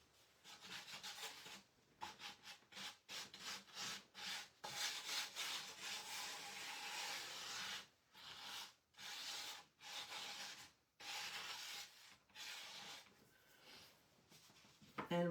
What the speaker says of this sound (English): I am gonna sand over it very,